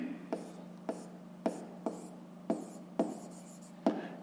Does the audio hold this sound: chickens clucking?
no